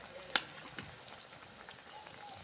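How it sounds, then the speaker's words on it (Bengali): Sweet potato jalebi fries in hot oil with a faint, soft sizzle, broken by a couple of sharp clicks and small pops. "আস্তে আস্তে আমরা ভাজে নেব"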